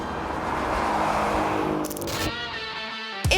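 A Ford Mustang Dark Horse, a 500 hp track-focused special edition, roars past loudly at first, then its engine tone falls away to a fainter steady hum, ending with a sharp burst.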